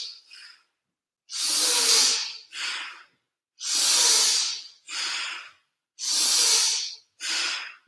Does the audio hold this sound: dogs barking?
no